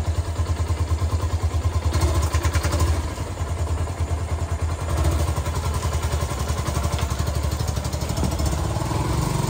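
A motorcycle is shifted to one side on slippery ground and ridden out, its mid-pitched engine chugging and revving steadily up close throughout, with clattering bursts between.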